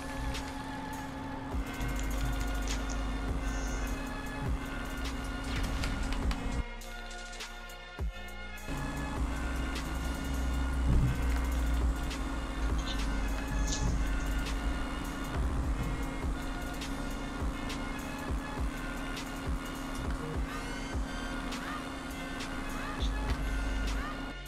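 Street Blazer and regular Blazer ATVs race in GTA, engines droning steadily with a constant buzzing whine, dropping out briefly before revving again, mixed with game effects and occasional chatter.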